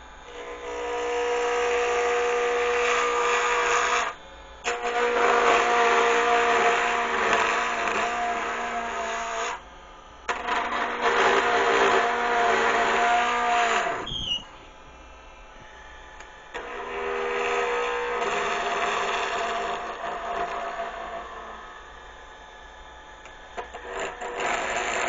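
A wood lathe spins at top speed, about 3,800 RPM, while turning a seam ripper, giving a loud continuous whirring hum broken by several short pauses.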